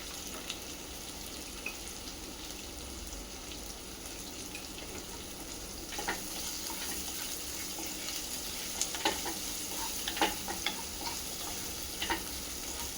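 Chopped onions sautéing in a pan for a potato dosa filling, a soft steady sizzle with occasional stirring scrapes and clicks, close and fairly quiet, no talking.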